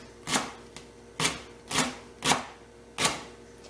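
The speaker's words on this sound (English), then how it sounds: "So I'm just going to cut this really fine to kind of match my onion." A knife chops a leek finely on a cutting board: five crisp, evenly spaced thuds, close and distinct, with quiet between each cut.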